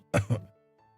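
Two short dry coughs in quick succession, close and fairly soft, followed by quiet.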